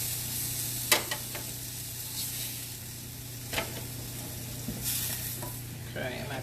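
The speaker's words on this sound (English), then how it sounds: "let's take this fish out of the pan and put the next batch in there" Fish sears in an oiled frying pan with a steady close sizzle, broken by a few sharp clinks and scrapes as pieces are moved around.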